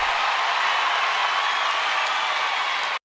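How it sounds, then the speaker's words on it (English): Large audience at the Final Fantasy XIV Fan Festival 2023 keynote cheering and applauding loudly, a dense, steady roar of crowd noise that holds evenly before cutting off abruptly. "that is the loudest that the crowd has cheered throughout this whole presentation"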